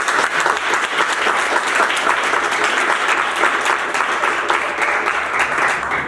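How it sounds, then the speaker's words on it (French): Loud, sustained applause from an audience at a Black History Month launch event in Québec, with dense clapping from many people holding steady throughout. "J'aimerais donc qu'on applaudisse très très fort pour le mois de l'histoire des Noirs"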